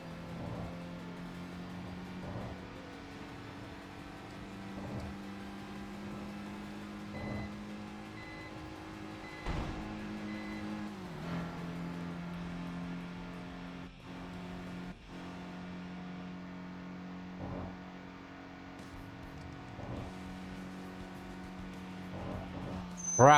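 Car engine in the video game Tokyo Xtreme Racer holding a steady drone through third gear, with shifts and brief pitch changes, continuous and fairly close, no talk over it.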